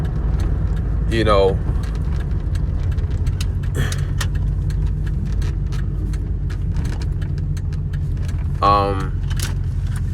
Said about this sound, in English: my truck's a little loud at the moment